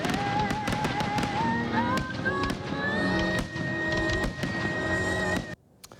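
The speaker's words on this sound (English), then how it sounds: "fireworks lit up the valley sky for a show in Fresno of nearly 18 minutes" Fourth of July fireworks over Fresno: a dense, steady crackle of bursts and pops, some sharp and near, under a whistling tonal sound, cutting off abruptly near the end.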